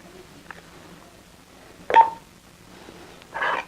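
A fireman's two-way radio powering on, giving a short tonal beep midway and a burst of hiss near the end, with faint clicks before it in an otherwise quiet room.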